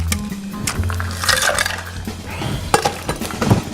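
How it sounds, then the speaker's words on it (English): Stirring a Manhattan of rye whiskey, sweet vermouth and Angostura bitters: close glassy clinks and a spoon scraping around a mixing glass, with a low background hum. "Give this a little stir."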